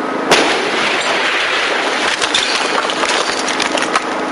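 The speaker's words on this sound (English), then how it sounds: "There were 20 of these test explosions." A test explosion recreating the Pan Am bombing gives a sharp crack followed by a broad rush of scattered, splintering debris noise that stays loud and dense throughout.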